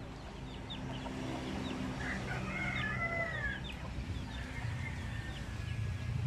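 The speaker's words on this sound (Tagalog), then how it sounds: "Ito naman mga manok natin." Several chickens clucking and a rooster crowing nearby, over a constant low rumble of background noise.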